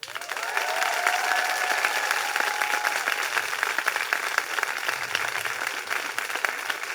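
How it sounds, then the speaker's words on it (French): An audience applauds children at a school Mother's Day celebration, a dense, steady wash of clapping that holds at an even level for the full stretch, with faint tonal sounds drifting through early on. "Alors on va les applaudir encore."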